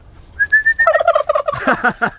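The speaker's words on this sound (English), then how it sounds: "someone said whistle to get him to gobble" A long human whistle rings out, then a turkey answers with a loud, rapid gobble of rattling bursts close by.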